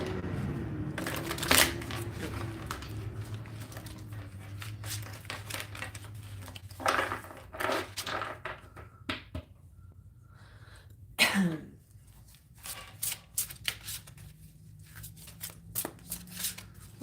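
Playing cards shuffled by hand indoors, a few crisp riffling bursts with soft shuffling and handling noises between, near the microphone with no talking.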